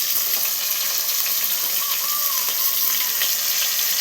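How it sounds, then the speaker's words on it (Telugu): Water poured into a pan of stuffed brinjal curry cooking in oil, a continuous gushing, bubbling hiss near and steady throughout, with faint sizzling beneath and no talking. "తర్వాత వాటర్ వేసేసుకున్నాం"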